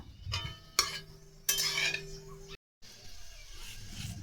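Oil being stirred in a wok, then dried red chillies added for a sweet-sour mango pickle: a utensil scrapes and clatters in a few short bursts, a steady hum underneath, then a brief silence and a soft sizzle.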